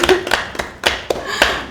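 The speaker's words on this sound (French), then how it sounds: "applaudissez pour Fatou" Sparse, distinct hand claps, a handful of individual sharp slaps spaced irregularly over a couple of seconds, close and clear with no talk.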